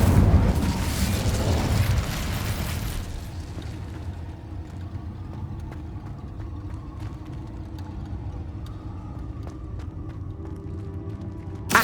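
In Hogwarts Legacy, the Incendio fire spell bursts out with a loud roaring whoosh in the first few seconds, then fades into a low, quieter game ambience with faint clicks and rumbles.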